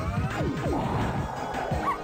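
Cartoon puppies barking in a Powerpuff Girls video game: a quick burst of several high yips and barks in a row, fairly loud, with game noise behind them.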